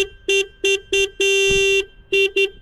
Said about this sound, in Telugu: హారన్ సౌండ్ విన్నారు కదా